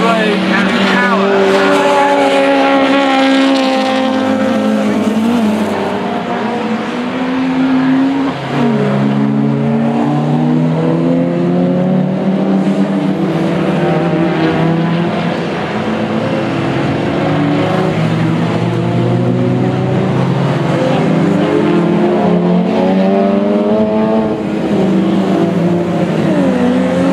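Club race cars from classes B, C, D and H howl around a circuit, engines rising and falling in overlapping sweeps as they pass, loud and continuous beneath a commentator talking.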